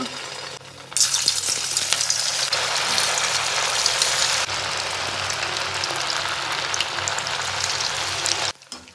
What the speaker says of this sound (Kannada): ಎಣ್ಣೆ ಬಿಸಿ ಆಗಿದೆ, ಇವಾಗ ಅದನ್ನು ಅದರೊಳಗೆ ಹಾಕ್ಬಿಡೋಣ.